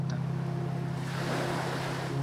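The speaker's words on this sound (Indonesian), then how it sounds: "Begitu saja perahu motor itu melaju." A motor speedboat runs across the sea with a steady low engine hum, while wind and rushing water spray wash over it close to the listener.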